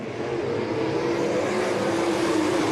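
IRA sprint cars roar around the Cedar Lake track in a loud, sustained engine drone, the pitch shifting slightly as the pack races by, with no talk over it.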